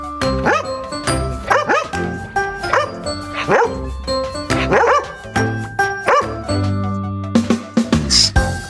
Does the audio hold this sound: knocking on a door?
no